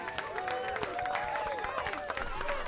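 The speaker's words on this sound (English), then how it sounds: "Round of applause for all of them for participating today." A crowd applauds streamer contestants at a live competition show, with scattered claps mixed with whooping, cheering voices that rise and fall over a busy, close background.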